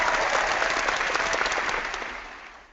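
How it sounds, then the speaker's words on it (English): A studio audience bursts into applause, a dense, steady wash of clapping that carries on throughout before slowly thinning and fading toward the end. "Our studio audience here is clapping for any reason."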